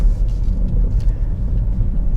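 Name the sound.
Volvo XC90 driving over a washboard gravel road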